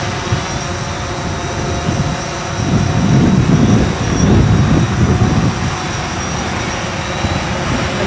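A small camera drone flies in to land outdoors, its steady whirring rotor hum swelling louder for a few seconds as it passes close, then easing back to a constant drone. No one speaks.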